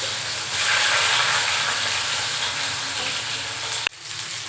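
Bitter gourd pieces frying in hot oil on a gas stove, still wet from draining, give a steady loud sizzle and hiss throughout, with a brief sharp knock near the end.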